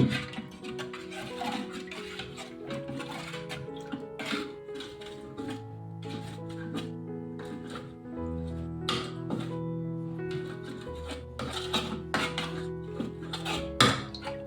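Spices stirred into a pot of dhokli curry, with dense clinks and scrapes of a metal spoon against the pan over music, no speech.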